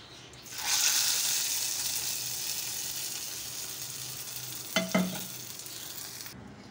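A hot tadka of spiced oil hisses loudly as it is poured into bottle gourd raita, a steady bright sizzle lasting several seconds, with a couple of metallic clinks near the end before it cuts off.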